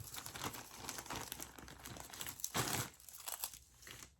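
A plastic poly mailer crinkles and rustles in short, uneven bursts as items are packed into it, close and fairly soft, with no voices.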